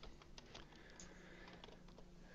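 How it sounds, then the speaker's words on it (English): Soft, rapid clicking of a computer keyboard during a screen-sharing work session, with quick irregular keystrokes over a faint steady room hum. "But when I'm typing,"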